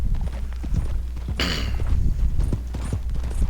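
Steady hoofbeats of a horse clip-clopping at a walk in Red Dead Redemption 2, with a brief burst of brighter noise partway through and a low rumble underneath.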